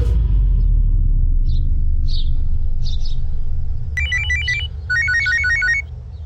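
Over a heavy low rumble, a few faint chirps give way to an electronic telephone ring in quick warbling bursts, repeating twice.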